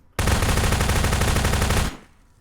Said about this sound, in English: Still SMGing